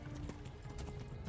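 Horse hooves clip-clop steadily in the medieval game Kingdom Come Deliverance, loud and close over a dense background of game ambience, with a faint whinny mixed in.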